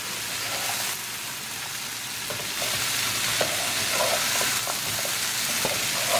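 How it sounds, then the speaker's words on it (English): Cauliflower coated in masala spices sizzles and fries steadily in a pan for an aloo gobi dish, with a broad hiss running throughout and occasional light scraping as it is stirred. "Keep mixing. Make sure that all the spices, all the masala is coated to cauliflower."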